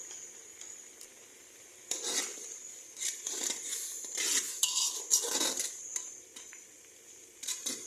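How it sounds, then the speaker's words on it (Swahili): Spinach leaves tumbling into a cooking pot that already holds ground sesame and pumpkin seeds, making light clattery rustles and soft utensil clinks in bursts, with a faint steady sizzle underneath and no talking. "Kisha nitaweka mchicha wangu."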